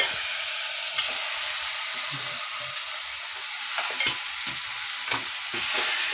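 A pan of mashed potato with tomato and turmeric sizzles and fries steadily while being stirred, with scraping spoon strokes over continuous close hiss and no talking.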